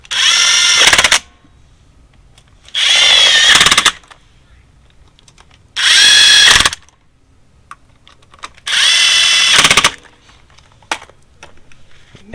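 A power drill tightens screws in four separate loud, close bursts, each about a second long with a whining motor and rapid ratchety clutch chatter, separated by quiet pauses with small handling clicks.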